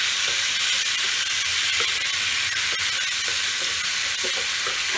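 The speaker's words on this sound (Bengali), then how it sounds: "মশলাটা দিয়ে একটু জাস্ট কষে নেব" Spice paste frying in a pan for kumror chokka, a loud, even hiss of sizzling oil with faint stirring taps throughout, no voices.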